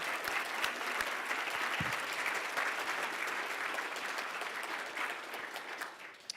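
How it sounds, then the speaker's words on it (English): A seated audience applauds a conference panel in a hall with a sustained, dense wash of clapping that holds steady, then tapers off at the end. "let's show a round of applause for these folks and what they've done for us today"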